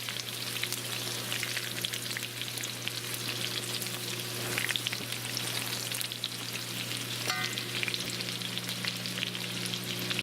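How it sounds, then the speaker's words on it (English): Continuous crackling sizzle of pork frying in a wok, over a steady low hum, with a brief metallic clink near the end. "I have them all up into my wok, and I'm frying them all up."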